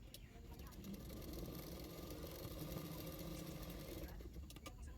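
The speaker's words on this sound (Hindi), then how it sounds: "बेल्ट की ऊपर किनारे किनारे पे मैं और एक सिलाई कर दूंगी" A sewing machine runs steadily, stitching along the edge of a blouse belt, a continuous mechanical whir held at an even pace for several seconds before slowing at the end.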